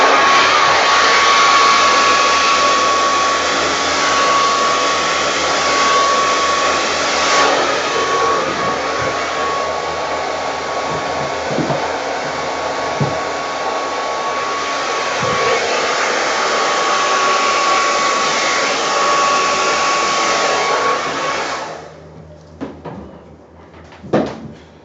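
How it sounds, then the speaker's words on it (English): A big blower dries a pour painting with a loud, steady whirring roar and a constant high tonal whine for about twenty seconds, then cuts off, followed by a few faint knocks. "I'm going to get the big blower."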